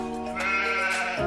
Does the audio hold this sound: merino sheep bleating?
yes